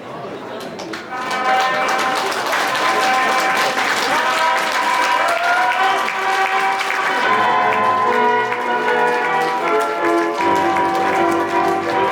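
Wedding guests applaud steadily as the bride and groom march down the aisle at a Korean ceremony, a dense continuous wash of clapping that swells in after the first second and holds loud throughout, with a bright melodic march tune playing underneath.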